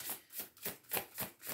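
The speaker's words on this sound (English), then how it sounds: "let's give these a little shuffle here" Oracle cards being shuffled by hand, six soft rhythmic riffles at an even pace, close to the microphone and quiet, with no voice.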